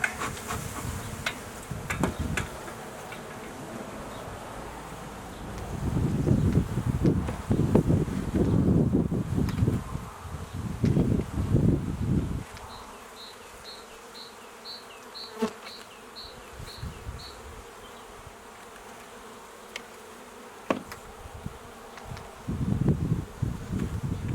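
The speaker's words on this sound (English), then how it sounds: "that's a great box of bees" A steady, dense buzz of many honey bees at an open hive fills the air up close during a spring hive inspection, with gusts of wind and rustling rising and falling over it.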